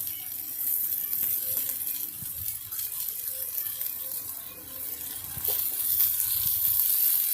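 Fish frying in a small amount of oil in a pan, giving a steady, continuous sizzle close by with no talking.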